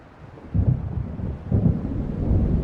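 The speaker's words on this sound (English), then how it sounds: "It seems there's a storm coming." Deep rolling thunder from an approaching storm in the video game Alan Wake Remastered, two heavy rumbling swells that fill the low end and sustain loudly, with no voices over them.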